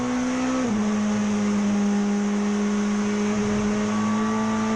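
A 1990s British Touring Car Championship Mini race car drones at a steady high engine pitch with one quick shift, loud and continuous as it runs on track.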